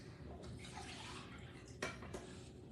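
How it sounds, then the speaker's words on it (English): Chicken broth pours and sloshes into a can in a home kitchen, followed by quiet liquid swirling as the can is rinsed. Two brief splashes or clinks stand out near the end, all faint and with no speech. "You can pour that water, that broth in that can,"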